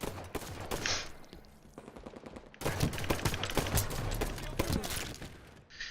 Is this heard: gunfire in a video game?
yes